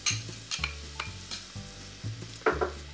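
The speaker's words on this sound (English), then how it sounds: "I'm going to make a little sofrito here in this pan with a little bit of extra virgin olive oil" Minced raw red onion sweating in extra virgin olive oil in a pan, with a quiet steady sizzle broken by rhythmic stirring strokes about every half second, and a sharper scrape near the end.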